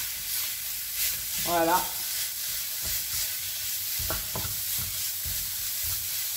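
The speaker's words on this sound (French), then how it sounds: "maintenant, j'y rajoute ma viande que je vais bien mélanger" Minced meat fries with browned onions in a pan, a bright sizzle under repeated scraping strokes of a spoon; a voice speaks briefly near the start.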